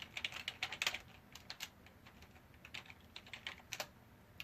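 Quick, irregular keystrokes tapped out on a computer keyboard while a file name is entered, close and crisp, with short bursts and pauses and no voices.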